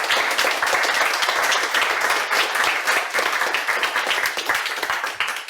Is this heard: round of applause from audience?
yes